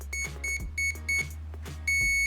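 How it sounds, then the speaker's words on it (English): An RC surfboard's electronics powering on: a series of short electronic beeps, each a clean high tone, in quick succession and ending on a longer beep, close by over a low hum. "You'll hear the 4 beeps"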